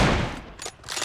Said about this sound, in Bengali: এনিমি নেই কিন্তু ফায়ারিং হচ্ছিলো